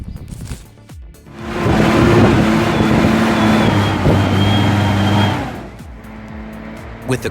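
A logging truck drives around a sharp curve on a forest road, its engine rising to a loud, sustained roar with shifting tonal hums as it passes close, then fading back to quieter background noise.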